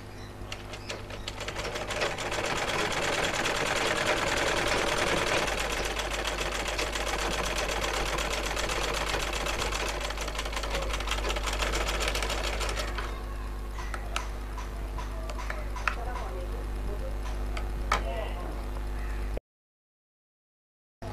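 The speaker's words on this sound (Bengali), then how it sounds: "এবার এই পাশেটা সেলাই করব।" A sewing machine stitches along the side seam of a blouse, a fast, continuous mechanical whir with a steady motor hum, running close and loud for most of the stretch before cutting off abruptly.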